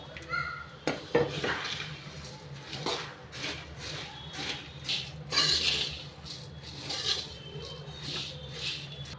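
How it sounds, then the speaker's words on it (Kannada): Puffed rice being tossed and mixed in a metal pan for puri vagane, giving a run of close scraping, rustling clinks of a spoon against the pan that come in uneven bursts, with faint kitchen background. "ಇದರೊಳಕ್ಕೆ ಪುರಿ ಎಲ್ಲ ಹಾಕ್ಬಿಟ್ಟು ಮಿಕ್ಸ್ ಮಾಡ್ಕೋಬೇಕು"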